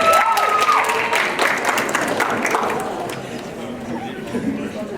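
School board meeting audience clapping for a student scholar athlete, a burst of applause with a few cheers and chatter at the start that gradually tapers into scattered claps and murmuring voices.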